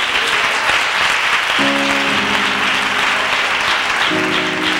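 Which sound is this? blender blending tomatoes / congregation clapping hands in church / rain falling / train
congregation clapping hands in church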